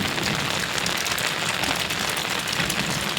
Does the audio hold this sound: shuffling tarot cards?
no